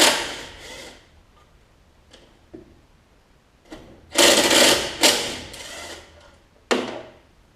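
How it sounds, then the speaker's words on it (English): Bolts come out of the cover of a rough Troy-Bilt Tuff Cut 200 lawn mower, with separate close metallic clanks and knocks of a wrench, short bursts between quiet gaps. "let me get these 3/8 inch bolts off"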